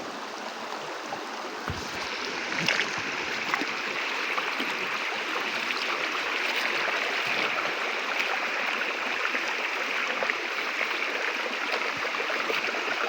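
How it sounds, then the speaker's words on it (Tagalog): River stream flowing steadily outdoors, a constant broadband rush of water with faint splashes, moderately close and uninterrupted. "Dito sa ilog na to."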